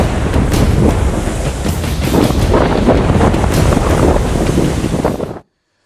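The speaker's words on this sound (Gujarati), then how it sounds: "દરિયા કિનારા વિસ્તારમાં વરસાદી માહોલ છવાતા દરિયામાં ઊંચા મોજા ઉછળ્યા" Stormy sea at Tithal beach in Valsad during rainy weather: high waves crash and roar while strong wind buffets the microphone, loud and continuous until it cuts off abruptly near the end.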